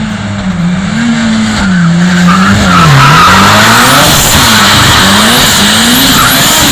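A 40-year-old Ford RS 2000 with a four-cylinder twin-cam engine revs loudly nearby, the pitch swinging up and down through repeated throttle blips and climbing to a hard, raspy howl.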